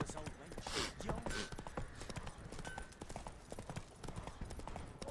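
A horse gallops in The Witcher 3, its rapid clip-clop hoofbeats drumming steadily and close throughout, with a faint voice murmuring underneath.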